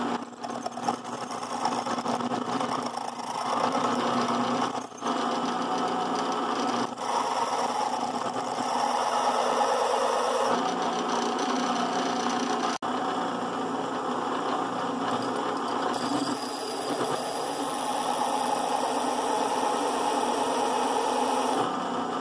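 A drill bit machining a metal guard part at slow rotation, a steady continuous mechanical whirr and hum with faint grinding texture, close and unbroken throughout.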